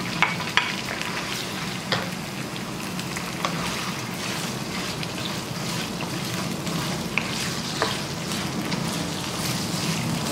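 Boneless chicken pieces frying with garlic in a pan give a steady, dense sizzle throughout, with occasional faint clinks of a spoon stirring.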